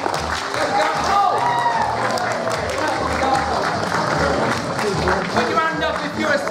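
A crowd at a Play Expo Blackpool panel claps and cheers in a short burst, with people talking over the applause throughout.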